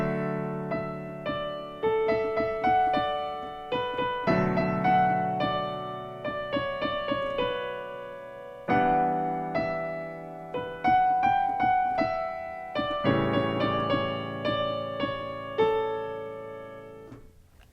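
Solo piano plays the chorus of a song, with steady chords and a melody line in repeated phrases, clear and moderately quiet, with no voices.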